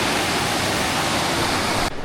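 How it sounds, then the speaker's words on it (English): Loud, steady broadband rush of creek water flowing close by, continuous and unbroken, cutting off abruptly just before the end; no talking. "now we gotta cross the creek"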